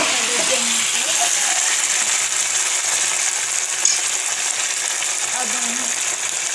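Dal stirred into frying spices for a dhaba-style dal tadka, giving a steady, fairly loud sizzle with soft scraping stir sounds throughout.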